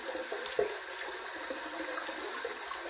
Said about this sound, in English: All right, so I'm gonna run under some cold water here.